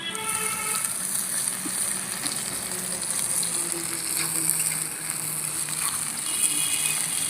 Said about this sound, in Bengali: আলুটা বেশ কিছু সময় ভেজে নিয়েছি এবার বেটে রাখা আদা জিরে আর কাঁচা লঙ্কাটা দিয়ে দেবো